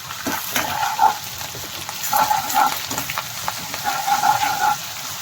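Gongura and dried prawn curry being stirred in a pan after ginger garlic paste goes in, a soft sizzle with scraping utensil strokes in uneven bursts, close and moderately loud, no talking.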